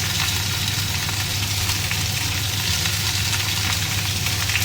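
Half a kilo of fish slipped one by one into a simmering fish curry, producing a dense, loud, continuous sizzle and bubbling close by, with no speech.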